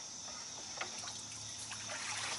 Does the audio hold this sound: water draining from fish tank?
yes